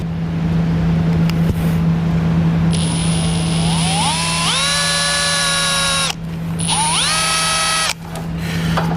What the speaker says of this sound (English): drill a new hole in this bracket and secure it that way